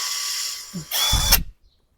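A Canlidi CIW-1000 cordless brushless impact wrench with 1,000 Nm torque runs in a brief burst, first a whirring spin and then a loud, rough hammering rattle that stops abruptly, heard close with no talk.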